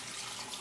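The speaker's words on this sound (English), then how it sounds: "I'm going to go ahead and rinse it with cold water" Cold tap water running steadily into a sink to rinse a basil cutting, a short close continuous stream.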